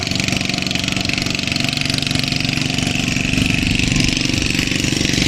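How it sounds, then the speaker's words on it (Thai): A fishing boat engine runs beside a pier at a sandy cape on the Thai coast, giving a loud, steady, close chugging drone with a fast regular pulse that holds throughout. "ได้ยินเสียงเรือก็นี่แหละครับ"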